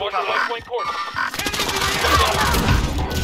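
Gunfire in Call of Duty Warzone, sustained automatic bursts with crashing impacts that swell after a brief pause, heard under in-game radio voices and a player speaking.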